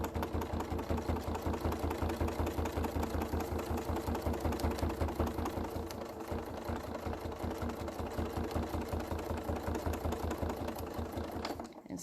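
A sewing machine runs steadily, stitching through stamped fabric with a fast, even mechanical chatter that holds close and loud for the whole stretch, with only a brief slowdown midway and no talking.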